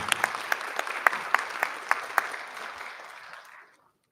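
A small audience at a school board meeting claps for a student, with sharp individual claps standing out over a softer spread of hands. The clapping is moderately loud and fades to silence after about three and a half seconds.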